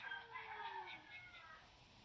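A mother cat with six young kittens gives a faint, drawn-out meow, a single soft call that fades quickly against a quiet indoor background.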